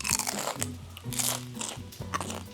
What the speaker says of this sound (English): That crunch, unmatched.